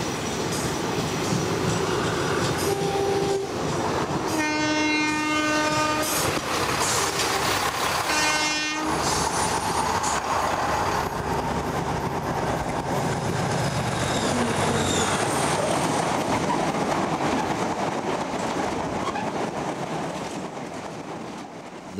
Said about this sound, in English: A Leyland rail bus pulls into Heddlesinch and is met by a westbound freight train.